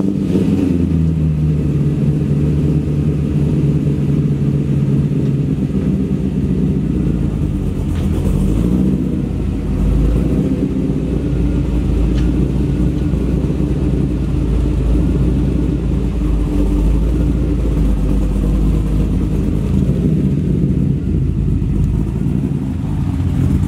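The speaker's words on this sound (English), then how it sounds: "Let's fire up the car and get out of here" A fourth-generation Camaro Z28 engine rumbles steadily throughout, with a low drone and occasional revving as the car drives along, no voices.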